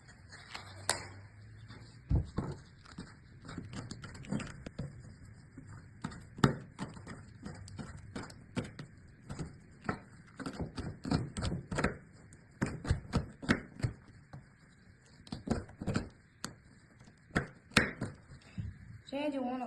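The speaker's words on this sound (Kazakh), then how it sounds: "Алдымен біз қызыл қырыққабатты алып, оны ұсақ қылып турап алайық." A knife chops red cabbage finely on a board, giving irregular sharp taps in quick clusters and pauses, fairly faint against a quiet room with talk in between.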